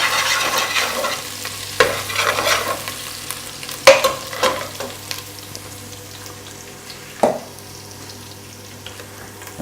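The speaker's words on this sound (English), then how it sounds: "See how it's going crazy, man? See how that's frying?" Ginger frying in a hot pan sizzles steadily while a utensil stirs it, with repeated scraping clacks against the pan and a faint background hum.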